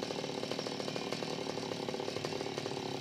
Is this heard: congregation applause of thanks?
no